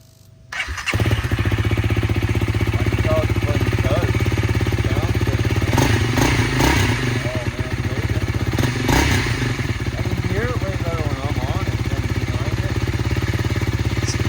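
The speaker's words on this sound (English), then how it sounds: "It doesn't idle as rough either." A motorcycle with raised risers starts up and settles into a loud, steady close-up idle, with a few blips of the throttle and some clattering handling noise partway through.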